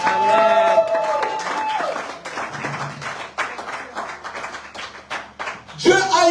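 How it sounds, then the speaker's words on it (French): A church congregation applauds with a scatter of irregular hand claps that swells near the end, following sustained singing or music at the start. "Est-ce qu'on peut acclamer pour la gloire de Dieu?"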